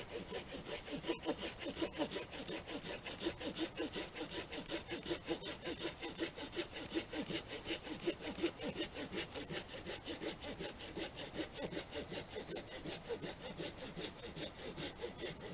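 A hand saw cuts through wood to make a bow drill spindle, steady rhythmic back-and-forth rasping strokes, close and fairly quiet, with no speech.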